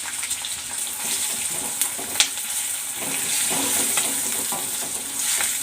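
Dry chillies and peanuts roast in a pan for an amla pickle, giving a steady broadband crackle and sizzle with scattered stirring scrapes and a couple of sharp clicks, fairly close and with no talk.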